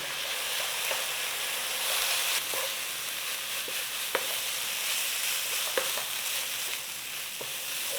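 Chili flakes and sugar cook in a pan with a steady bright sizzle and occasional soft stirring clicks, moderately loud and continuous, with no voices.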